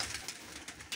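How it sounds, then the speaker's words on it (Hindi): Soft, low cooing of breeding pigeons, a few brief murmurs close by amid faint background noise. "ये कबूतर हमारे ब्रीडिंग वाले हैं"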